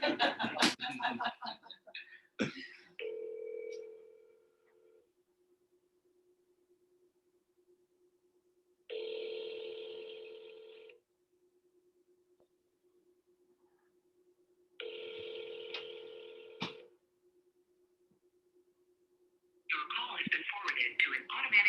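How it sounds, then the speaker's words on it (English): Repeated telephone ringing tones during a live seller sales call, the same number dialed several times in a row; two clear tone bursts sound after a brief stretch of voice at the start, with a low steady hum underneath. "You know what we're doing, right? We're triple dialing."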